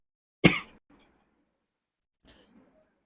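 A single sharp cough from a teacher with a cold, loud and abrupt, followed by faint throat noises and a second softer cough-like rasp a couple of seconds later, otherwise quiet.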